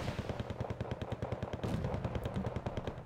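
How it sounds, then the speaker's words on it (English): Rapid, sustained automatic gunfire from a vehicle-mounted weapon in Wargame: Red Dragon, a steady stream of shots at moderate distance with no pauses. "I hear a vehicle firing."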